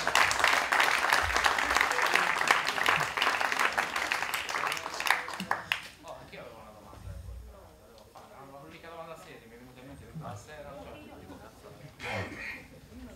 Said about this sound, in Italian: Questo merita un applauso.